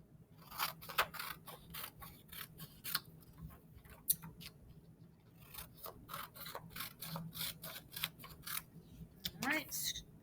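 Scissors cut through paper to trim off a name, giving a quick run of soft, close snips and rasps at a low level.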